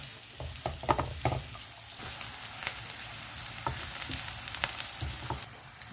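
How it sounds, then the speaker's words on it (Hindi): Chopped onion and garlic cloves fry in a pan, a busy crackling sizzle with scattered sharp pops and stirring scrapes, fairly close and steady, fading slightly at the end with no talk. "अब इसको अच्छे से फ्राई कर लेना है।"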